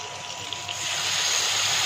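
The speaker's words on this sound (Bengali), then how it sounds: "মশলাটা যাতে পুড়ে না যায় তার জন্য হালকা একটু জল মিক্স করে দিয়ে দিই" A little water poured into frying spices in a pan while cooking paneer, a soft hiss and trickle that swells into a louder, steady sizzling gush after a brief quiet start.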